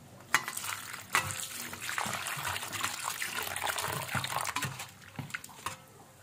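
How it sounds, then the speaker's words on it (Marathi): Cut squid rings being rinsed in a home kitchen, with water sloshing and trickling over them and sharp handling clatters and splashes throughout, moderately close and with no talk. "आई बोलली की परत एकदा धुवून घेऊया म्हणून पाणी टाकून स्वच्छ."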